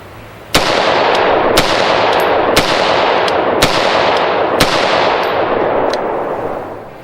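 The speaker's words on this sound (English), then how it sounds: "I just plugged it in and started shooting" Rifle shots fired over a MagnetoSpeed V3 chronograph with Freedom Munitions reloads, at the 2017 SHOT Show: six sharp, loud reports about one second apart, each with a short ringing decay, and no talk.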